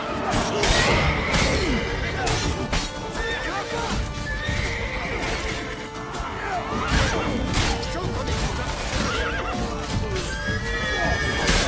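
Horses in The Witcher 3: Blood and Wine repeatedly neigh and whinny amid clip-clopping hooves, with crashing and thwacking impacts and voices throughout, loud and continuous.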